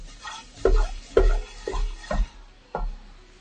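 Food cooks in a pan with a soft sizzle, broken by several distinct stirring scrapes and knocks at irregular intervals, close and clear.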